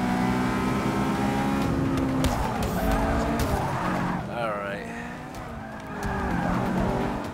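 Race car engines roar loudly in the racing video game Forza Motorsport 6, with tires squealing and skidding, dipping briefly midway before surging again, as a voice talks over it.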